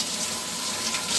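A vegetable is washed under a running kitchen tap, giving a steady, close hiss of flowing water splashing into a sink with no pauses.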